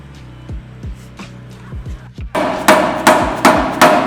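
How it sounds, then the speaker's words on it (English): A plastic mallet taps a part back into its hole on a BMW E36 M3 S50 engine build, several sharp knocks ringing out one by one before a brief pause and then four louder, harder whacks. "we'll put it back in the hole and tap it back in"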